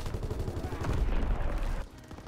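Rapid gunfire in the Call of Duty WW2 video game, a dense burst of bangs and rattling shots that cuts off near the end.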